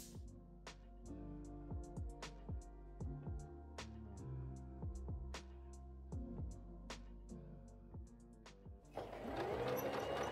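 A domestic sewing machine stitches a trouser pocket in short, separate bursts of rapid mechanical needle clatter, each ending with a whirring stop, close and fairly quiet, before louder handling noise at the end.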